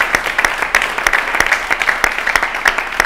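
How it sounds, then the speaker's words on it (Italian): A studio audience applauds, with dense steady clapping continuing throughout at a fairly loud, close level. "Ci manca però l'applauso."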